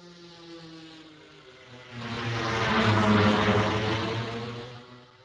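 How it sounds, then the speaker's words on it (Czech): A simulated drone flyover rendered in 3D space swells from a quiet hum to a loud, buzzing propeller-like roar as it passes overhead, then fades again, resembling a passing aircraft. "tohle to byl nějaký jako přelet dronu, no, šlo to poměrně hodně slyšet jako přelet nějakého letadla"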